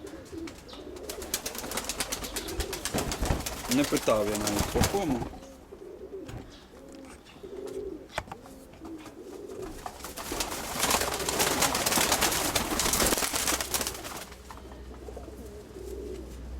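Pigeons in a loft coo in repeated soft throaty rolls close by, with bursts of rustling and flapping and someone talking intermittently over them.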